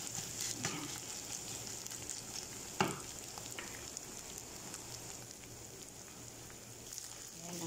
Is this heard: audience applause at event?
no